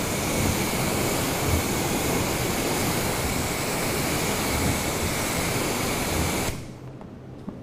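Continuous hiss of water sprayed over a car during detailing, steady and loud for several seconds before cutting off abruptly, leaving a quiet room tone.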